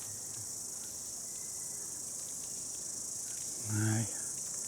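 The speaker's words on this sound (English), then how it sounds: "A few more cicadas clicking away, you can hear them." Cicadas buzz in a continuous high-pitched drone throughout in a New Zealand kauri forest reserve, with a brief low voice murmuring near the end.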